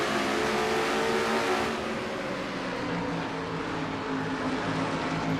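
An on-board race car engine in car 29 during a Castrol GTX Cup stock car race, a steady loud drone with layered harmonics holding near full throttle, dipping slightly partway then sustaining continuously.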